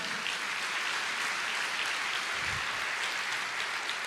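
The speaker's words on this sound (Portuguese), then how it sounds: "Vamos aplaudir ao Senhor." A church congregation claps together in worship, an even, continuous patter of many hands heard from some distance, fairly soft and unbroken.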